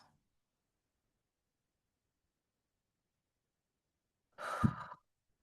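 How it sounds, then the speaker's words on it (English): One deep breath is drawn and let out as a sigh close to the microphone, brief and clear after a long silence. "drop your shoulders, and take 3 deep breaths."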